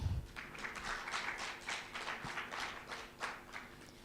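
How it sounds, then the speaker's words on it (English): Applause from a panel discussion audience after lunch, faint and distant, a scattered patter of claps rising and falling in loose pulses across the room. "please give them a better clap"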